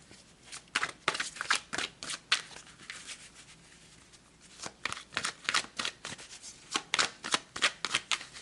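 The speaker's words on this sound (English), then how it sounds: "So let's pull some more cards." Tarot cards shuffled by hand at close range, crisp riffling bursts in two clusters separated by a brief quiet pause, with no talking over them.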